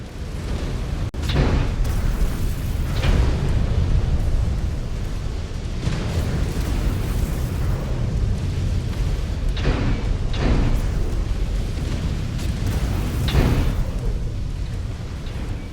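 Missile explosions in the mech combat game Mechwarrior 5: Clans during heavy city fighting, a string of loud booming blasts every second or two over a constant roar of battle noise.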